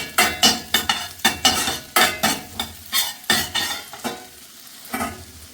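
Chopped garlic and spring onion whites sautéing in a pan, heard as loud, close, rhythmic spatula scraping over a steady sizzle, with no talking.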